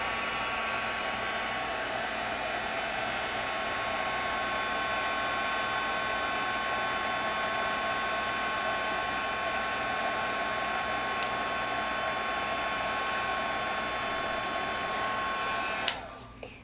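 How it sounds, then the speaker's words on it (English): A heat gun blowing steadily to melt clear embossing powder on cardstock, a loud constant fan-and-heater whir that holds for the whole stretch and cuts off sharply near the end. "once I hit the card with the heat gun, you're going to see the clear powder is going to start to get shiny"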